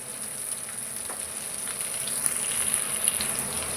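Potato and onion pieces fry in a pan with a steady, soft sizzle and faint crackle. The sound runs alone and without speech, rising slightly toward the end.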